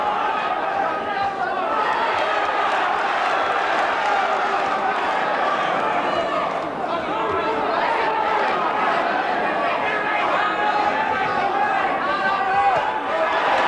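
A dense boxing crowd cheers and chatters for Dave McAuley against Roy Thompson, with a loud, continuous roar and some clapping running throughout.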